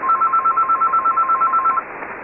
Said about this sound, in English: and there goes the phone, and somebody's going to answer it, I hope.